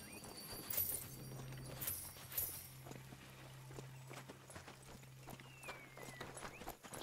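Horse hooves clip-clopping in the video game Strange Brigade, a steady walking rhythm of soft, moderately close hoofbeats over low ambient game sound.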